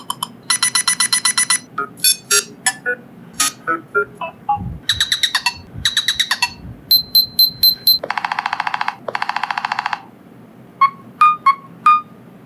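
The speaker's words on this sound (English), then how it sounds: "there are 10 different ringtone options available for you" Nothing Phone 1 ringtones play in a string of short electronic beeping and chiming patterns, rapid repeated tones in rhythmic bursts, loud and close with no talk.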